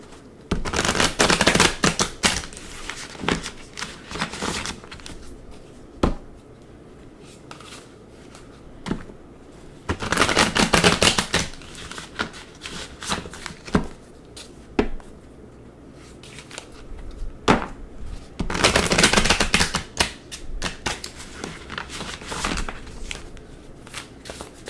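Oracle cards being shuffled up close in repeated bursts of crisp riffling and flapping, about three longer shuffles separated by quieter handling and soft taps, with no talking.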